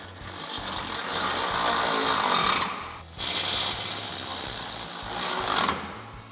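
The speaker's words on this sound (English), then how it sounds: "Tighten those down with a 16mm socket." An impact wrench tightens bolts with a 16mm socket on a heavy-duty modular steel front bumper for a 2019-2021 Chevrolet Silverado 1500. Two loud, continuous rattling bursts run close up, with a brief pause between them.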